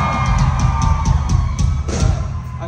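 Concert crowd at a Boise, Idaho show cheering for a band, a loud continuous roar with whoops and yells filling the room, steady throughout.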